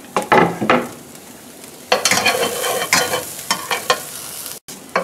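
Onions, rosemary and garlic sauté in a pan on the stove, with loud bursts of sizzling and several spoon scrapes and stirs, briefly cutting out near the end.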